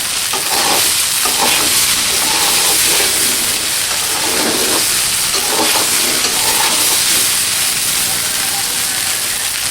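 Cabbage and capsicum stir-fried with rice for vegetable fried rice, giving a loud, steady sizzle and hiss throughout with a few scraping stirs and faint background talk.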